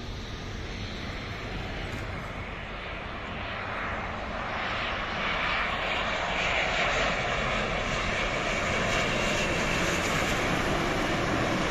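A Biman Bangladesh Boeing 787 Dreamliner on approach to land at Dhaka, its jet engines giving a steady broadband roar that builds gradually and stays loud and continuous, with no voices.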